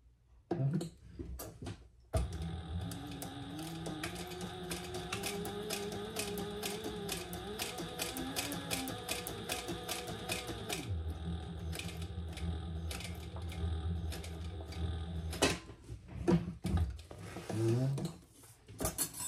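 A sewing machine stitches a leather pouch, running in a steady rapid mechanical whir for over ten seconds, with brief starts and clicks before and after the long run.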